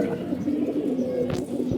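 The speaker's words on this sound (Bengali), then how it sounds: "আমাদের বাঘা কবুতর ফ্যানে বসছে" A pigeon of the Bagha type, perched on a ceiling fan indoors, coos in a low, steady, rolling murmur close by, with a couple of brief sharper flutters near the end.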